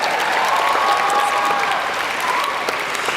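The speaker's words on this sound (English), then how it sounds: "You're going to clap again" Audience clapping at a Blue Ridge Academy high school graduation ceremony in Azusa Pacific. The applause is steady, dense and sustained, with a faint tonal murmur underneath and no pause through the whole stretch.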